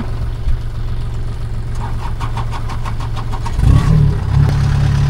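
A Kubota tractor stuck in the ground at harvest season: a steady low engine rumble runs throughout, a burst of rapid knocking clatter follows, then the engine swells louder and heavier near the end.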